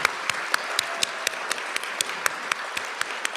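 Applause at a scholarship awards ceremony, a sparse and evenly spaced run of sharp hand claps at moderate distance over a steady room hiss.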